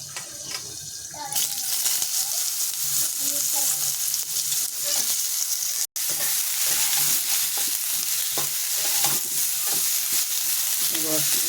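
Eggplant slices fry in hot oil in a pan just after fish, a loud, steady sizzle with crackles and stirring scrapes throughout and a brief break near the middle, with a faint voice now and then.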